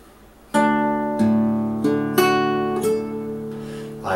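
Fingerstyle guitar plays measure 4 of a piece from Lord of the Rings, with open bass strings under fretted notes: about five plucked notes and chords in an even, unhurried rhythm, each ringing into the next, close and clear.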